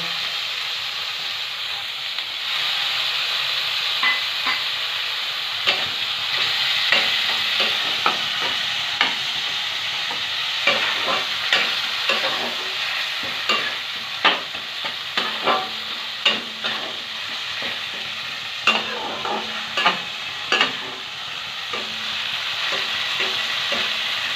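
Spice paste with ground chilli sautés in a pan for a catfish curry, a constant close sizzle punctuated by frequent rhythmic scrapes and taps of a spatula stirring against the metal, with no talking.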